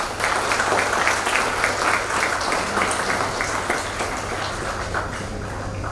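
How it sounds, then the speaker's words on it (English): A large graduation audience at an engineering college ceremony claps steadily, a dense, sustained applause filling the hall and slowly tapering off, with no voices over it. "in their absence, please clap"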